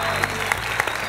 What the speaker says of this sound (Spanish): un aplauso para Brenda.